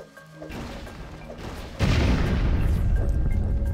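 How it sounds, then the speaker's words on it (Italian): A loud, deep explosion in a LEGO City Undercover video game mine level, as dynamite blows up a cart, erupts partway through, its rumbling roar sustained and filling the rest of the clip after a quieter stretch of low noise. "certo che una bella esplosione"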